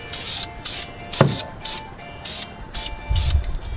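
An aerosol spray can applying thin coats of paint to car brake calipers, heard as a series of about seven short, loud hissing bursts with brief pauses between them, close to the listener.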